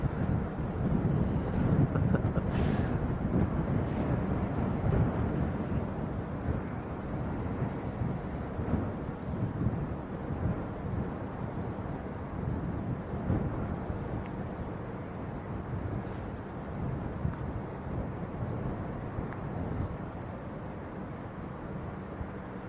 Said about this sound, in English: It's always windy here.